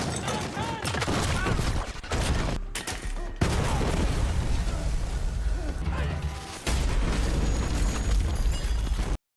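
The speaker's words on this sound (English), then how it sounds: "cult members suddenly open fire" Dense, loud bursts of gunfire and explosive pops fill a film shootout as cult members open fire, nearly continuous with brief gaps, mixed with other action sound.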